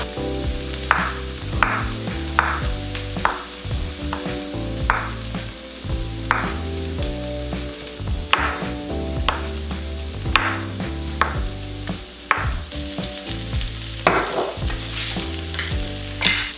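Diced red pepper and yellow onion sizzle steadily in a pan, a loud continuous fry broken by repeated stirring scrapes and clatters throughout.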